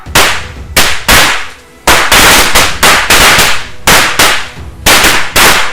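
A lit firecracker string bursting outdoors, rapid very loud sharp cracks in clustered volleys with brief gaps, close and dominant.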